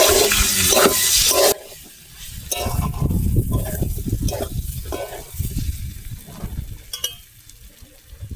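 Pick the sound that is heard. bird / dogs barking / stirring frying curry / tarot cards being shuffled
stirring frying curry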